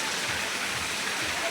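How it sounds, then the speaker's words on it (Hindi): Rain falls steadily on a factory in Mumbai, a dense, even hiss of water with no single drops standing out, running without a break through the short stretch. "बारिश हो रही है हमारे कारखाने पे।"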